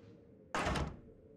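A blocked door in the horror game Outlast II is tried, giving a single loud, short rattling thud that cuts through a quiet background and fades within a fraction of a second.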